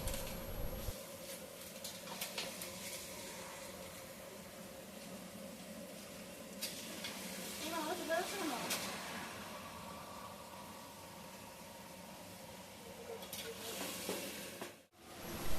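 Mutton pieces frying with turmeric and cumin powder in a pot for a picnic cook-up, giving a steady, fairly quiet sizzle and bubbling hiss that runs continuously with small stirring clatters, with no voices.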